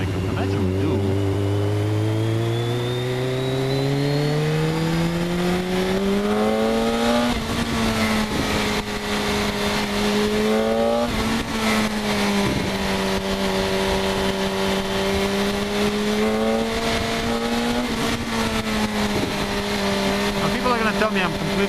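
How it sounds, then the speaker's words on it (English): A 2008 BMW K1200S motorcycle fitted with an Akrapovic exhaust is ridden on the street, its engine rising in pitch, then holding a steady, loud drone with small swells under constant wind rush. "but you know what this sounds like? This sounds like my first street bike in the USA."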